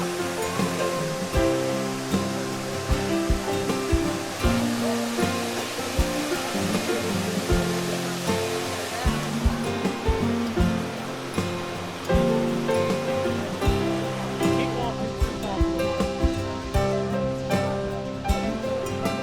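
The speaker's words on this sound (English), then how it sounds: "the Reedy River, which dramatically pours over the falls in the center of the park" The Reedy River pours over the falls at Falls Park in Greenville, South Carolina, heard from a bridge high above as a steady, loud broadband roar with constant churning wash and no speech.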